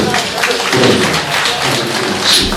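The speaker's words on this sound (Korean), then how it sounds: "우리 특별히 방송팀 선생님께 한번 큰 박수" A church youth congregation gives a big round of applause for the broadcast team, loud dense clapping at close range with occasional thumps, sustained throughout.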